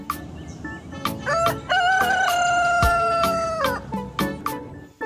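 A rooster crows loudly and close by in a livestock setting, one long drawn-out cock-a-doodle-doo with clucks and short calls from other fowl around it, and no talking.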